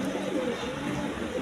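Pigeons cooing softly as they feed their chicks, low murmuring calls under steady background noise.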